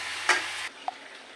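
Shrimp and ridge gourd sautéed in a pan with a little oil, giving a soft sizzle and a brief scraping stir near the start, then a quieter simmering hiss with one small clink.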